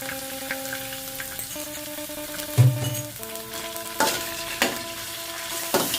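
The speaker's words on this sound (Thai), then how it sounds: "เดี๋ยวเราก็จะน้องจะเอาพริกแกงมาผัดให้มันหอมก่อนนะคะ" Curry paste stir-fries in a pan for a Thai jungle curry with catfish, giving a steady close sizzle. Several sharp scraping knocks from stirring break through it, and a faint tonal hum sits in the background.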